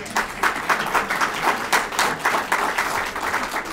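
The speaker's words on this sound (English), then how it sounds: "we've got to give Congresswoman Matsui a round of applause, please." An audience at a health reform event applauds a congresswoman: dense, steady clapping from many hands that swells in rolling waves and stays loud and fairly close throughout, with no voices over it.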